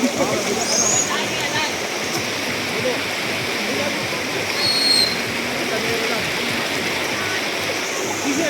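Steady rushing river water at a riverside in Norzagaray, Bulacan, flows continuously, a dense broadband wash without pause, with faint voices and a few high bird-like tones above it.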